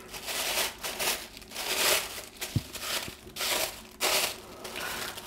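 Packaging paper is crumpled and handled close by for the whole stretch, crinkling in bursts with a couple of brief taps mixed in and no talking.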